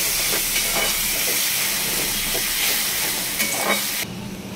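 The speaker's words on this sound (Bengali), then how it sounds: "এবারে ভালো করে কষিয়ে নেব" Prawn curry masala sautéing in a pan, a steady loud sizzling hiss with faint stirring scrapes throughout, easing slightly near the end.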